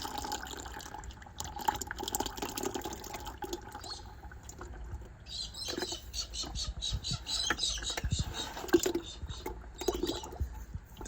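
Old fluid draining from the engine of a 1975 White 2-150 tractor with a stuck engine, a steady trickling, splashing pour with scattered drips, close by and moderately loud, alongside clanking tool noises.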